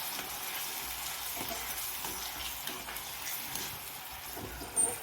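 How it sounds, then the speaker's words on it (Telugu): Onion paste and green chillies frying in hot oil in a pan, a steady close hiss and sizzle throughout, with a small clatter near the end. "ఆయిల్లో ఈ ఉల్లిపాయ పేస్టు వేగింది కదా."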